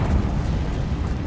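A Confringo fire spell blasts in the Hogwarts Legacy video game, a dense, rumbling burst of low, booming energy that fills the short moment loud and close, with no voices over it.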